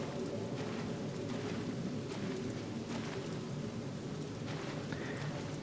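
Steady rain falls heavily and evenly throughout a scene in the game Fatal Frame: Maiden of Black Water, a dense continuous hiss with no voices.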